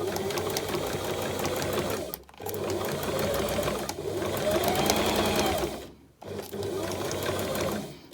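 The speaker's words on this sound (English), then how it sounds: "and stitch towards that tip." A sewing machine stitches a contour dart in fabric, a close, steady, rapid mechanical whir in three long runs with two brief stops between them, and no talk.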